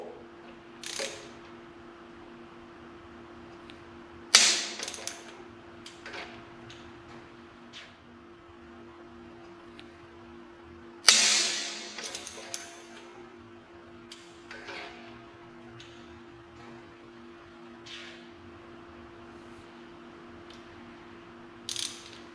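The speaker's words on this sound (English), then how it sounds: "I broke a torque to yield bolt" A cheap Harbor Freight torque wrench tightens a torque-to-yield bolt on an LS engine. Faint ratcheting ticks are broken by two loud, sharp metallic cracks a few seconds apart, one of them the bolt giving way, with no talk.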